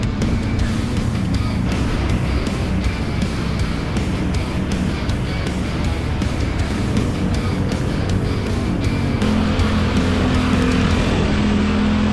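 Steady engine rumble of road traffic idling and creeping at a stoplight, heard from a motorbike during an Independence Day ride, loud and continuous with no talk.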